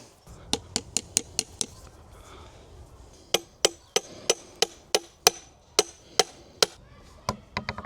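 A hammer taps a metal farm gate post in quick bursts of sharp, ringing strikes, a fast run of blows, a pause, then a steadier series, close by.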